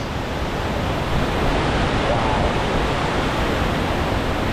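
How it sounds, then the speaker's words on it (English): Water rushing over rocks along a waterfall stream in Oslo, a steady loud broadband roar filling the whole clip, with a brief exclamation from a nearby voice. "Just hearing the water rush over the rocks."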